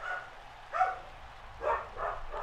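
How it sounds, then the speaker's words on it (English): Dogs bark at a visitor dropping off a package, several sharp barks coming in separate bursts, muffled and somewhat distant, over a quiet low hum. "My dogs are going nuts"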